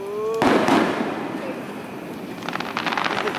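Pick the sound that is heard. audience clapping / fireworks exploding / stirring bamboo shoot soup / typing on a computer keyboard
fireworks exploding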